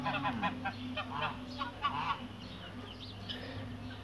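Domestic geese honk repeatedly at a nest, the calls fairly close and loud over a steady low background hum, with no talking.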